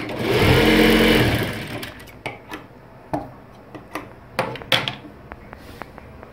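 A sewing machine stitches a shoulder seam on a garment, one loud run of stitching followed by quieter scattered clicks and knocks of fabric handling.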